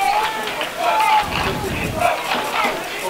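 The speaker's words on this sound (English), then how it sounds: "Colonel's trying to get the crowd involved here, chanting for defense." Spectators at a Hartwick vs Wilkes University college football game chanting and yelling for defense, a roaring crowd rising and falling in waves with a commentator talking over it.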